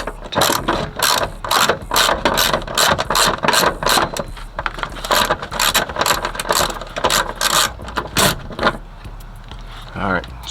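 A ratchet wrench with an extension loosens a 13 mm seat bolt inside a Cutlass under restoration, producing repeated close bursts of rapid metallic clicking separated by short pauses.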